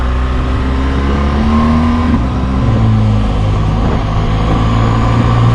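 A BMW R1200GS motorcycle accelerates on an open road, its engine note loud and close, swelling and shifting pitch as the throttle opens, with steady wind rush underneath.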